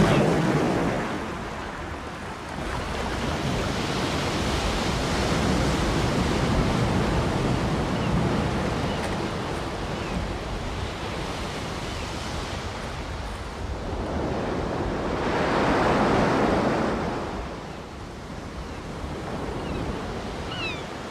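Atlantic ocean waves surge and crash against the high sea cliffs of the Cliffs of Moher, a continuous roaring wash with two louder swells, mixed with wind noise and no voices.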